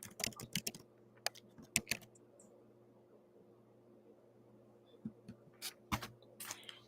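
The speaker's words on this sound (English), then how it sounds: "I'll just type that in the chat box." Bursts of quick typing on a computer keyboard in a quiet room come in clusters of crisp clicks, with a long pause in the middle before a second flurry of keystrokes.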